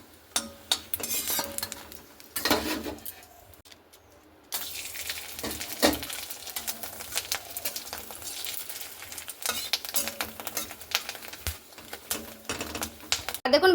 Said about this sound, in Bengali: তো গ্যাসের আঁচটা কমিয়ে দিয়ে কিন্তু আমি এইভাবে ভেজে নিচ্ছি